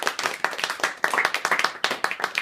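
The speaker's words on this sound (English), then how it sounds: "So everyone give a big round of applause for Tori Noquez." A small close-up magic audience claps and applauds for a magician, a brief burst of distinct, fairly close hand claps with an uneven rhythm, no talk over it.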